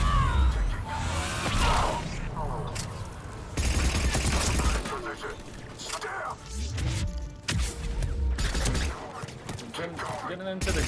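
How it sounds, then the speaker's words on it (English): Gunfire in the video game Mass Effect 3, with bursts of shooting and impacts repeating through a dense battle mix alongside music and voices. "I was shooting in smoke"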